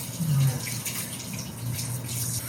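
Water runs from a bathroom sink tap during a skincare routine, a steady hiss and splash that stays moderately loud, while a voice briefly sounds over it.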